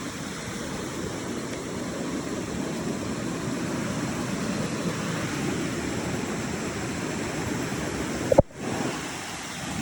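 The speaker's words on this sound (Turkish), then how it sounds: "Burada dere var." A stream flows steadily at night beside a Kogi village in Colombia, a constant broadband rush that holds even in level for the whole stretch, broken briefly by a sharp click and a momentary dropout near the end.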